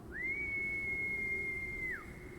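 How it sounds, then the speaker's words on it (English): A single clear, sustained whistled note from a character in the video game Love and Deepspace, rising at the start, holding steady for about two seconds, then dropping away, heard alone over a soft background hum. "He whistles and the sound lingers."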